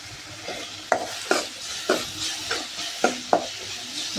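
Dried curry leaves and turmeric sautéing in oil for chicken gravy, a spoon scraping the pan in a regular rhythm of about seven close, distinct strokes over a continuous sizzle.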